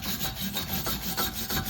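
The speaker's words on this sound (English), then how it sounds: "I can brush the hub a little bit." Wire brush scrubbing rust off the wheel hub of a 2021 Kia Seltos S AWD during a brake job, a rapid, rhythmic rasping of repeated strokes, close and moderately loud, with no talk.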